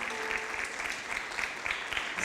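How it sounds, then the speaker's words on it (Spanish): A church congregation claps in welcome for a newcomer, a steady, moderately distant patter of many hands filling the short stretch without a break. "Le damos un aplauso de bienvenida."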